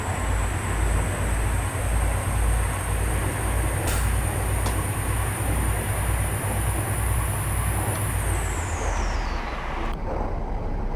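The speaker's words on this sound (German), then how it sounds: "Turbolader, so wie das pfeift." A DB train running along the line carries a steady, loud rumble throughout, with a high sustained turbocharger whistle riding above it that slowly falls away near the end; a couple of brief clanks cut through midway.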